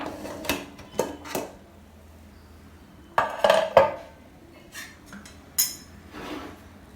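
Spoon stirring and scraping through cooled coconut milk ghee rice in a pot, a few soft clinks and scrapes in short separate bursts, close and quiet, with no talking.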